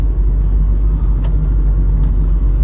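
A Holden Monaro lapping a circuit at a time attack event, its engine a loud continuous drone heard from inside the car, steady without obvious gear changes, no voices.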